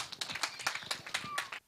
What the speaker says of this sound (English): A round of applause once more for him.